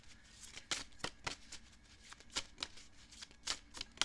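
Tarot cards being shuffled and drawn, a series of quick crisp riffles and slaps, close and fairly quiet, arriving in irregular bursts with short pauses between.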